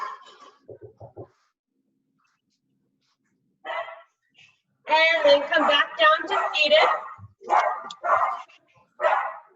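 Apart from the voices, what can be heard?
dog barking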